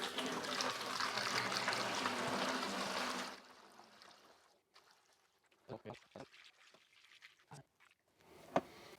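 Coolant pours and trickles out of a Mitsubishi Lancer CE during a flush, a steady broadband splash for the first few seconds before thinning to faint drips and scattered clunks.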